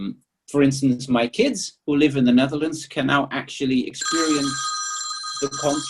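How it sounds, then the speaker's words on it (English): A telephone bell rings steadily for the last two seconds, loud and close, overlapping a man's ongoing speech about recorded concerts. "Sorry, that's the phone going."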